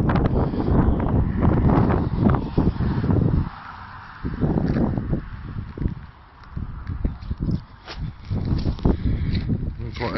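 Strong wind buffets a microphone outdoors on a moped trip to Nordkap, with snow-capped mountains and a small stream nearby; loud, continuous gusty roar and rumble, with someone talking over it.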